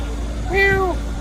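A single cat in Berlin lets out one clear, rising-and-falling meow, close and distinct over a low background hum.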